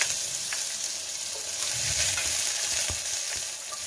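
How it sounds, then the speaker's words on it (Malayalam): Ginger garlic paste and green chillies being sautéed with spices in a pan for a simple chicken curry, a steady close sizzle with occasional scrapes and stirring clicks throughout. "ശേഷം 2 ടേബിൾ സ്പൂൺ ഇഞ്ചി വെളുത്തുള്ളി പേസ്റ്റും ഒരു 4 പച്ചമുളകും ചേർത്ത് ഒന്ന് വഴറ്റിയെടുക്കണം"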